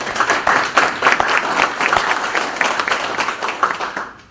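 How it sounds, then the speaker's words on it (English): Audience applause at a university football signing day press conference, a steady wash of many hands clapping for about four seconds, fairly loud and close, tapering off at the end. "So please give them a round of applause"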